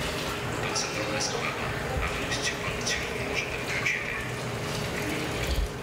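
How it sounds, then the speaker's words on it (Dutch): Warm water runs from a kitchen or bathroom tap in a shelter housing Ukrainian refugees, a steady hiss and splash under nearby voices. "Als je warm water wilt uit de kraan, dan is die wat ingewikkeld."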